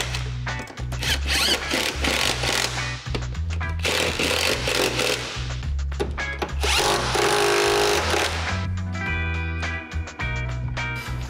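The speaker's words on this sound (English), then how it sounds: "get the bolts started, then we'll slowly tighten down both sides and the back" Bolts on the lower control arm of a 1978 Datsun 280Z restomod are run in with a power tool in loud, repeated whirring and rattling bursts, separated by short pauses.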